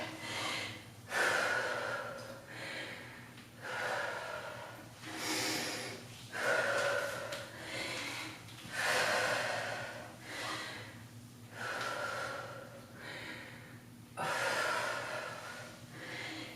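Deep rhythmic breathing during a yoga balance exercise in a strength and stretch workout: long, steady inhales and exhales repeat in even cycles about every two seconds, close and clear with no talking.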